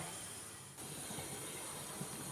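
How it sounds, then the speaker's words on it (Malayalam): Steady broadband hiss of steam rising from a Kerala puttu steamer over boiling water, continuous and even for the whole stretch with a low background rumble. "ഇനി ഇതൊരു 3-4 മിനിറ്റ് നന്നായിട്ടൊന്ന് ആവി കയറട്ടെ."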